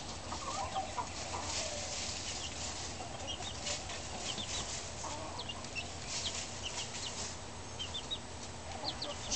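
Chickens cluck and chatter continuously inside a roost, a busy overlapping flock sound at moderate distance with a steady background hiss.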